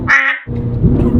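A single nasal duck quack sound effect, used as a comic censor over speech during a Ferrari rally vlog, rings out briefly before a voice and road noise continue underneath.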